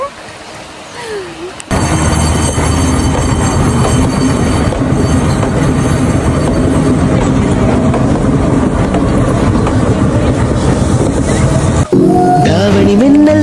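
A loud train rumbles past up close at Nuwara Eliya, Sri Lanka, its wheels clattering and roaring steadily on the rails, with brief squeals and voices near the end.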